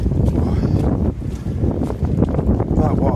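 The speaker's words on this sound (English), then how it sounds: "Absolutely blowing a gale." Gale-force wind at Ladybower Reservoir on a wet day, roaring and buffeting the microphone in loud gusts up close.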